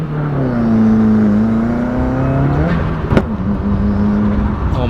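A car with a catless J-pipe exhaust accelerates hard, its engine note rising and falling through shifts, with turbo flutter and a sharp exhaust pop midway, loud and close from inside the cabin.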